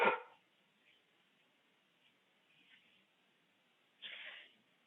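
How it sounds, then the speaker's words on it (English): A house dog barks at noise outside: one sharp bark at the start, a few faint soft sounds, then a second louder bark near the end, heard indoors at a modest distance. "we got somebody making lots of noise outside, and our dog is letting us know"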